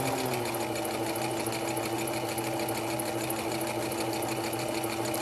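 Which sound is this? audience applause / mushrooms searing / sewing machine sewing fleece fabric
sewing machine sewing fleece fabric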